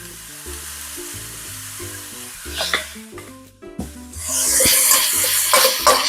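Ground pork and celery sizzle in a pan as soy sauce goes in, with stirring scrapes, then a loud burst of hissing frying that stays strong and close to the end.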